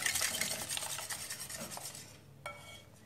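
A whisk beating eggs and sugar in a bowl for a sponge cake, a steady fast scraping rhythm close up that fades slightly toward the end.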